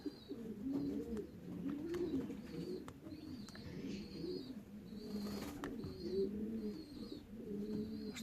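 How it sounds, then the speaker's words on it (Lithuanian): Racing pigeons coo steadily at the loft after a 360 km race from Mława, several birds overlapping in soft repeated low calls, with a few faint higher chirps above. "Štai 4 paukščiai."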